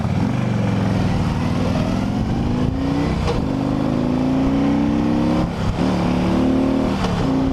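2008 Harley-Davidson Ultra Classic Electra Glide motorcycle engine in winter, rumbling loud and close as it revs through gears, with a missed upshift that briefly interrupts the rising drone before it pulls on again.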